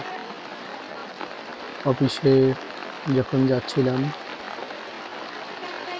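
Steady rain patters on surfaces in a village throughout while a person speaks briefly in the middle.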